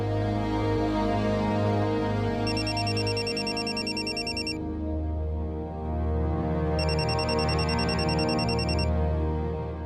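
Telephone rings in a Marathi TV serial scene, two bursts of bright trilling bell tones separated by a pause, heard over a sustained dramatic music bed with no speech.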